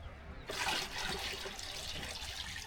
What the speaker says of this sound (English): filling them up with water.